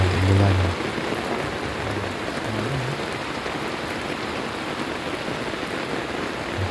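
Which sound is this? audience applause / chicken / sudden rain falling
sudden rain falling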